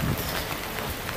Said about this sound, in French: surtout quand il pleut